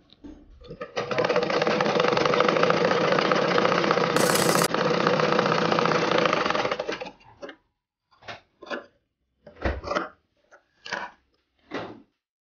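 A sewing machine stitches along the folded edge of a frock, running steadily for about six seconds before stopping, followed by several short, separate knocks and handling sounds.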